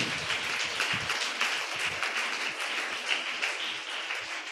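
A church congregation claps continuously in a dense, even patter, with many hands together sustaining steady applause from start to finish.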